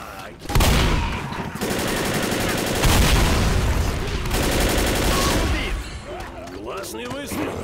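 Rapid gunfire in the Left 4 Dead video game, The Sacrifice campaign on Expert, with loud sustained bursts of automatic shots and a few heavy blasts, broken by short pauses, with a voice talking near the end.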